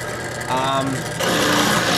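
Dremel rotary tool roughing out a wooden part on a 3D printer, a high steady whine that rises in pitch and loudness as it bites in, close and continuous.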